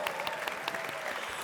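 A crowd of hockey fans applauds steadily, a dense wash of many hands clapping at once with faint cheering mixed in, loud and continuous throughout.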